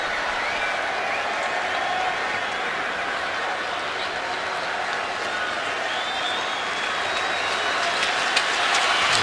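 Football stadium crowd at a Steelers at Raiders game gives a steady, broad roar of noise that swells slightly near the end, with commentary over it.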